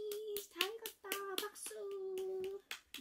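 An 8-month-old baby claps its hands, a string of close, light, uneven slaps. An adult's sing-song voice runs through and over the claps.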